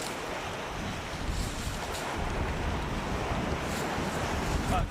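Wind gusts across an open Suffolk beach with steady roaring surf, a continuous broadband rush that swells slightly midway, no voices.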